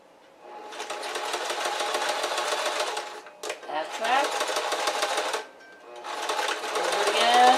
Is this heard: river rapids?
no